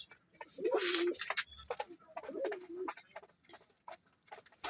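Pet pigeons cooing nearby, two distinct throaty coos among soft rustling and scratching, with a faint voice in the background.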